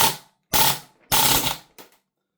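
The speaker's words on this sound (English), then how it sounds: "If you try to hold down the trigger, that's usually what you get. You get a big puff of gas out the front of the barrel." Airsoft APC9K gas blowback gun fired on full auto, three loud hissing bursts of gas and action noise with short gaps, then a brief weaker puff, close up with no talk.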